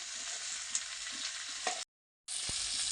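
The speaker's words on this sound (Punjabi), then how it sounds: "ਤੇਲ ਦੇ ਵਿੱਚ ਹੁਣ ਆਪਾਂ ਪੇਠੇ ਨੂੰ ਫਰਾਈ ਕਰਾਂਗੇ" Pumpkin pieces fry in oil with a soft, steady sizzle and occasional stirring clicks, quiet and close, broken by a short silent gap.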